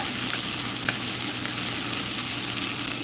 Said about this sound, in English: we're starting to get some browning action on these onions